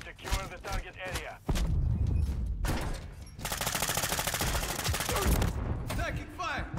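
Call of Duty Modern Warfare III multiplayer match with loud bursts of rapid automatic gunfire and sharp single shots, separated by short pauses and mixed with game voice callouts.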